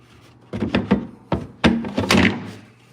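A wooden kitchen base cabinet door, being fitted with new hinges, closes with a quick series of close, hollow thunks and knocks. No one speaks.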